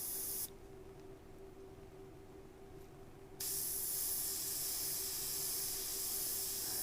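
Airbrush hissing steadily as it sprays paint onto a zombie hand model, a continuous close airy hiss that brightens and grows louder partway through, with no talk.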